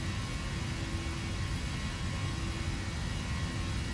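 Boeing 737-700 jet engines in the flight simulator game FSX produce a steady, dense cockpit roar and hiss that stays constant throughout with no talk.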